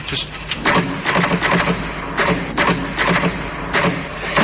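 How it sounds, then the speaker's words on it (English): Manual typewriter keys strike in quick irregular bursts with carriage clatter and thuds, close and moderately loud, filling the short stretch without talk. "the longest word you can write is typewriter. I'll just show you,"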